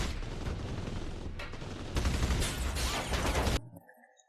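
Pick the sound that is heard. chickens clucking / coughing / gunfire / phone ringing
gunfire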